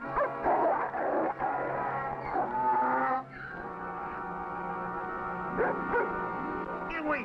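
A dog barking excitedly at a man who waves it off, giving a rapid run of loud, close barks and yips with whimpering tones, followed by steady sustained yelping.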